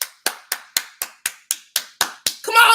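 An audience claps in slow, evenly spaced single claps, about ten sharp claps in a row, ending in a brief burst of louder mixed clapping; close and clear with no talk.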